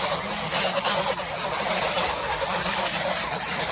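Geese honk and gobble loudly and continuously up close as they gather for grain feed in the afternoon, a dense overlapping chorus of calls with no pauses.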